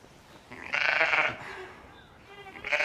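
A Ryland cross Herdwick ewe bleats close by, one long wavering call followed by a shorter second bleat, in a quiet farm setting.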